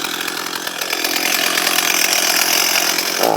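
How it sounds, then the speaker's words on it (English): A chainsaw engine runs loud and close with a buzzing rasp that steadies as the trigger is released and the revs drop, ending in a brief sharper burst. "I hit the trigger there to release that power, the RPMs down on the chainsaw"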